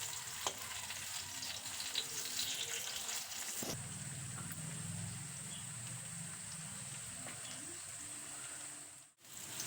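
Pumpkin slices fry in a covered pan with a steady crackling sizzle, a sharp clink partway through, then the sizzle carries on.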